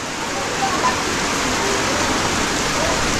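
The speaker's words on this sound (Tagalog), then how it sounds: "Gawa nung biglang buhos yung ulan." Heavy rain pours down steadily over a chili pepper farm, a dense, continuous wash of close, loud hiss with no breaks for the full length.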